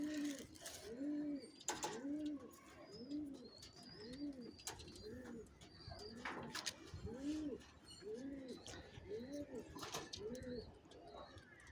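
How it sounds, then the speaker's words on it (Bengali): Pigeons released from their cleaned coop coo in a steady rhythmic series of soft, rounded calls, repeating about once a second, close by, with faint chirps and scattered knocks in the background. "আজকে পায়রাগুলো সব বের করেছি, কারণ পায়রার খোপটা পরিষ্কার করা হলো তো"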